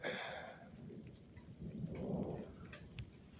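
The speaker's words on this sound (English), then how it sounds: "Now that one's thundering." A low, broad rumble of thunder rolls through, swelling and fading over a few seconds, with no voices.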